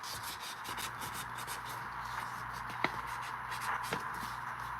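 Quiet, steady rubbing strokes as a pure copper ring is buffed by hand with 3000 grit sandpaper, a soft continuous scratchy texture with an occasional small tap.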